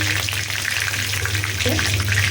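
Chopped raw onion frying in hot oil makes a loud, close, continuous sizzle, with occasional stirring scrapes and a low background hum.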